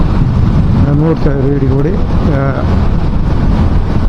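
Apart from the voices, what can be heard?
strong wind while riding a motorcycle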